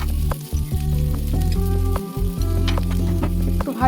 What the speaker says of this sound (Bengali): এদিকে একটা ফ্রাই প্যান বসিয়ে তাতে সামান্য পরিমাণে পাঁচফোড়ন দিয়ে, কুচনো লঙ্কা আর গ্রেট করা আদা দিয়ে কিছুক্ষণ ভেজে নেব।